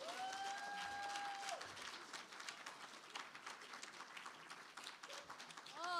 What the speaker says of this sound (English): Please, a round of applause for Gabrielle.